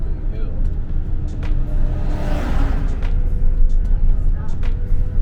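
Car being towed along a road near Peñas Blancas, Guanacaste, Costa Rica, heard as a loud continuous rumble of road and engine noise with a whooshing swell midway while people talk.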